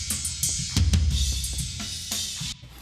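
Both floor toms of a drum kit, played through a drum plugin with its gate held open, give booming, ringing hits with long decaying resonance, several strikes in a loose pattern, loud and close.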